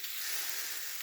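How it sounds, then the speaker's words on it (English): Water sizzling in a stainless steel pan heating for over-easy eggs, a faint steady hiss with no other sounds. "I kind of started to get it, but it's still sizzling"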